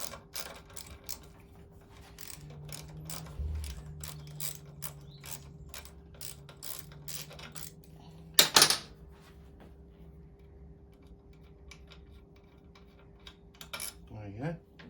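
Metal parts clicking and rattling as a piece is worked off the clutch ratchet mechanism of a 1976 Yamaha FS1E moped: rapid close ticks, a low hum, then one sharp loud clatter.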